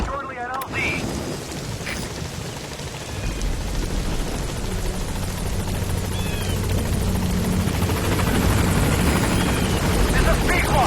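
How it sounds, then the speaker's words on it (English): Extraction helicopter arriving in Metal Gear Solid V, a steady loud rotor drone and engine rumble that swells after a quiet start and holds constant, with wind-like noise over it. "I'll send the extraction chopper."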